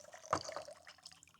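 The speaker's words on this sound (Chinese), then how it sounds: "然后带个这种折叠桶，你看，再放点水" Water is poured into a collapsible folding bucket outdoors at a campsite. It makes a quiet short splash, then a soft trickle and a few drips, with no talk.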